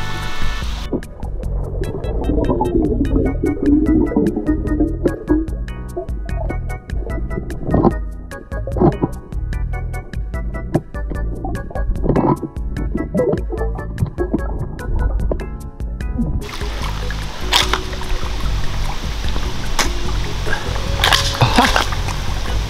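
An airsoft gun fires underwater, heard as muffled sloshing and bubbling with repeated faint clicks and drips, then a louder splashy stretch near the surface at the end.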